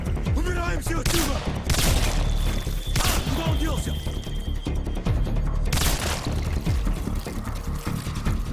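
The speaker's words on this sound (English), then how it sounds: "That is some sweet pistol action" Rapid pistol fire in the sci-fi shooter Singularity, sharp shots in bursts over a dense, loud game soundscape with booms and clatter throughout.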